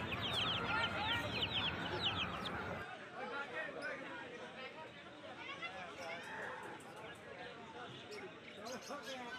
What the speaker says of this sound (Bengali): দেখো মুরগিগুলো 70 টাকা পার পিস, তোমরা কিনতে পারো।